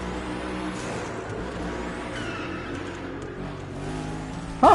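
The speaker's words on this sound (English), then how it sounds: "the engine sounds great with this echo" Car engine in the racing video game The Crew Motorfest, a steady droning motor tone echoing as if in an enclosed space, running continuously at close range before a sudden loud burst at the end.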